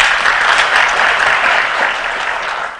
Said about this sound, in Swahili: Mpigie rais makofi.